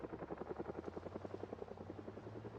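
Helicopter in a zombie survival video game, its steady rapid rotor thumping heard continuously with a low engine hum, moderately quiet and alone without talk.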